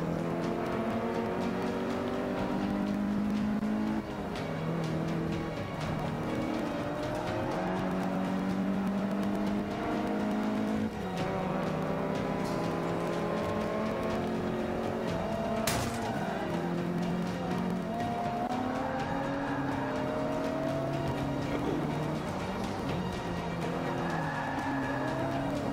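A race car in Forza Motorsport 5 on Xbox One drives continuously, its engine whining up and down through the gears with tire squeal throughout, loud and close.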